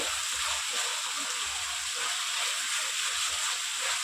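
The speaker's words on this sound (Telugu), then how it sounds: "అల్లం పేస్ట్ వేగుతుంది" Ginger paste frying in a pan, a dense, steady sizzle with a constant hiss and no talking.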